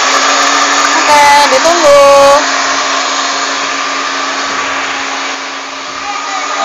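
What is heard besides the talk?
electric mixer beating cake batter at full speed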